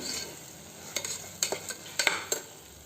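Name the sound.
masala frying and being stirred in oil for broken wheat pulav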